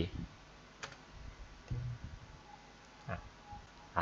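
Computer keyboard keys are pressed a few times in separate clicks, including the Tab and Enter keys, close and fairly quiet over a faint steady hum.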